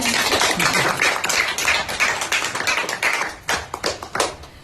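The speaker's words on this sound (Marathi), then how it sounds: "टाळ्या वाजवा सगळ्यांनी" A crowd of listeners claps together at a neighbourhood community gathering, a dense sustained burst of hand claps that thins into scattered, uneven claps toward the end, with no talking over it.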